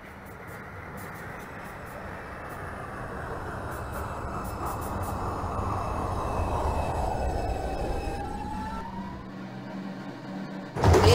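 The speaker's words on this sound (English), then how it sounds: "This is a Bronx-bound 4 express train." A simulated New York subway Bronx-bound 4 express train at Lexington Avenue-86th Street in OpenBVE, a long rumbling pass that swells and fades with a falling whine of motors, ending in a brief louder burst.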